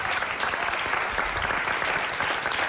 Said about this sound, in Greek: Ένα θερμό χειροκρότημα για τους υπέροχους μουσικούς